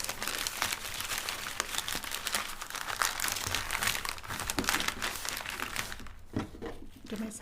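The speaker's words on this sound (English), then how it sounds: "Do you like all that wrinkled paper sound, you guys?" Crepe paper wrapping crinkles and rustles almost continuously while a hand-tied paper flower bouquet is being assembled, close and fairly loud, with irregular crunchy bursts and a brief quieter stretch near the end.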